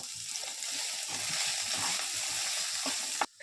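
Shallots, ginger and garlic with a little salt sauté in a pan, giving a steady close sizzle with soft scraping stirs throughout, then cutting off abruptly near the end.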